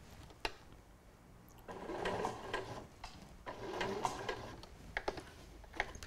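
A domestic sewing machine stitches piping around a fabric corner in short bursts, the fast mechanical whir starting and stopping as the work is pivoted, with small clicks between runs, close and fairly quiet.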